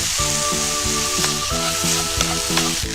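Mushrooms stir-frying with chicken rice in a pan, giving a continuous loud sizzle and hiss with light stirring, while a tonal melody plays underneath.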